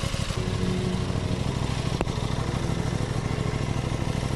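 An Aprilia Tuono 660 motorcycle engine runs steadily and close by, its even mid-pitched drone carrying a faint rattle throughout, with one brief sharp click partway through after its throttle response has been fixed.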